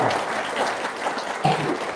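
An audience claps at an Indonesian talk about grocery store traders, producing a short, steady wash of applause with a slightly louder swell near the end.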